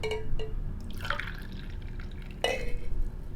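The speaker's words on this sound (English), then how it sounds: "I'm going to pour the coffee into the cup." Freshly brewed coffee from a medium-light roast poured into a cup, a soft trickling splash with a couple of brief drips and a second pour near the end, close and fairly quiet.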